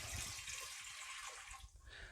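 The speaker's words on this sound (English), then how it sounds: "Now, first of all, I'm going to get 700 of that water in here." Water is poured into a pot to make brine for home-cured corned beef. It gives a steady, close rushing splash that fades slightly near the end, with no talking.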